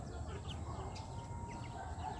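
Bantam hens and roosters kept in a backyard flock clucking, soft intermittent calls over a constant low background hum, fairly faint and close, with no clear speech.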